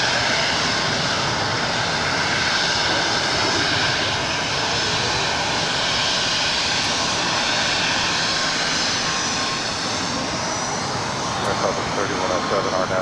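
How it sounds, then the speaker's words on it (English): A Volaris airliner arriving from Mexico City touches down at Los Angeles airport, a steady, loud roar of jet engines that fills the whole stretch, with radio chatter from the tower faintly underneath. "That is Volaris Flight 994, just landed from Mexico City"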